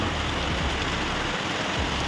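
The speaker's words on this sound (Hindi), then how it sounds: "एकदम बारिश वाला सीन" The season's first rain falls in a steady, even hiss that stays unbroken from start to finish, with no voices over it.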